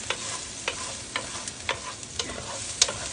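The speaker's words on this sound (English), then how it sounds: "I'm just going to stir them around here, making sure that that flavor blends in really well with my oil." Vegetables for a frittata fry in oil as a utensil stirs them, producing a soft steady sizzle punctuated by about eight short, regular scraping strokes close by.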